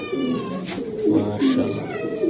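A caged racing pigeon offered for sale coos in low, throaty rolling bursts, close and fairly loud, with faint background voices.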